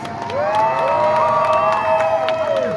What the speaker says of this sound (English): Let's hear it for Alan, guys!